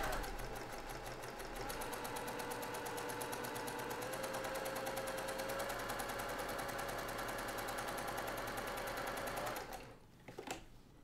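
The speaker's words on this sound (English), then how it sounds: "Just makes for easy sewing." A sewing machine stitches Dresden quilt pieces against a seam guide, running in one steady, close, continuous whir for about ten seconds before stopping abruptly, with a few faint clicks afterward.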